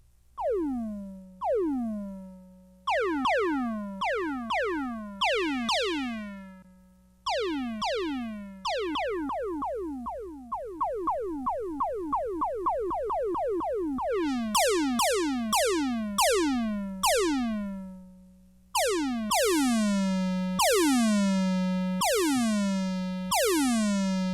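A Korg Electribe 2 synth plays repeated plucked notes with heavy filter resonance, each one a sharp, whistling sweep that falls away. The notes come in quick rhythmic bursts, clear and alone with no voice.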